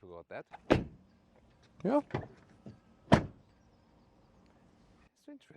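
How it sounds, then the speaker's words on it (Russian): A BMW iX3 (2026) car door shuts with a couple of sharp, close thuds, set among short bursts of talk and quieter handling noises. "Звук закрывания двери не самый топовый, что я слышал."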